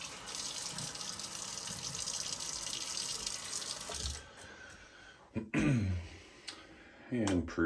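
A bathroom tap runs steadily with a hissing rush of water into the sink before shaving, then shuts off, followed by a few close splashes as water is brought to the face, with a throat clear in between.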